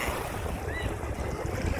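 Steady wind gusting across the mic at Repulse Bay beach in Hong Kong, a continuous close rumble and hiss with faint surf underneath.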